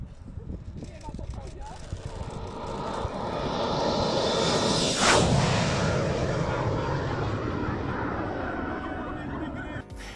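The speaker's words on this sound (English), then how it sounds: "An incredible low pass from a TS-11 Iskra in Poland." A TS-11 Iskra jet trainer makes a low pass in Poland, its engine roar swelling to a loud, close peak with a sharp whoosh as it flies by, then trailing off into a fading rumble.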